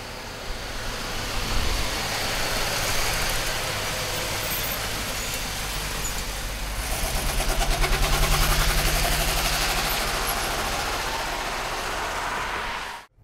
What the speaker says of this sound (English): let's take this Mark IV for a ride